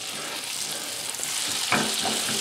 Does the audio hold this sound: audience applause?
no